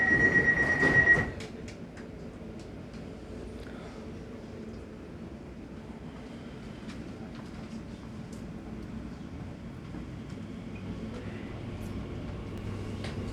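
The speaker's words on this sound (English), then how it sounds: "This train is now ready to depart." The first Crossrail Elizabeth line train pulls out of Paddington toward Abbey Wood. A short chime gives way to a low, steady rolling rumble heard from inside the carriage, fairly quiet and continuous.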